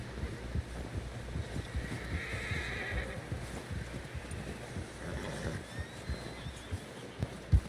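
A horse whinnies loudly over steady clip-clopping hooves in the video game Red Dead Redemption 2, with wind blowing across the microphone and no talking.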